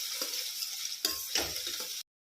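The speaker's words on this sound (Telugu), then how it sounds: "బాగా కలుపుకొని మన ఆనియన్స్ మంచిగా ఎర్ర రంగులో వచ్చే వరకు వేయించుకోవాలి." Onions sizzle steadily in a hot pan while being fried for gongura chicken, with a few scraping stirs of a spoon breaking through the continuous frying hiss before it cuts off abruptly.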